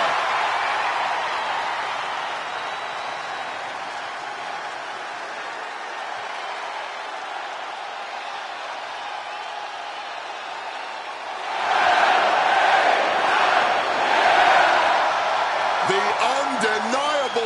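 A virtual arena crowd in the WWE 2K26 video game roars for L.A. Knight's wrestler entrance, a steady dense cheer that swells louder partway through while a commentator talks over it.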